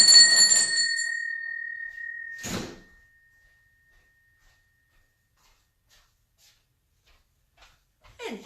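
A doorbell rings once with a bright chime whose tone lingers for about two seconds, then a short dull door thunk follows, leaving near silence and a faint knock at the end.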